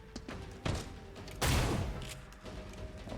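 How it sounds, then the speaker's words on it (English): Grenade detonation in the XCOM: Chimera Squad video game, a faint pop followed by a louder burst and a rumbling blast tail amid quiet game ambience. "Throwing grenade."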